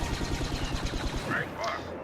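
Blaster turrets in Star Wars Battlefront multiplayer fire in rapid, evenly spaced bursts for about a second, then fade under quieter game effects and chirps.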